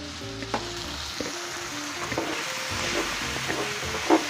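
Angel hair pasta tossed with kale juice sizzles in a pan, a close, steady frying hiss with small scrapes and taps of stirring, no talk.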